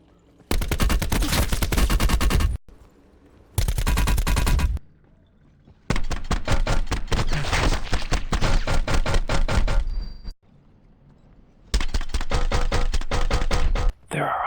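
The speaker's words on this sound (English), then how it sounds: "listen to the difference in audio when firing a suppressed weapon compared to an unsuppressed weapon" Suppressed and unsuppressed weapons firing in a video game, heard as several long, loud bursts of rapid automatic fire separated by short quiet gaps, some bursts fuller and harsher than others.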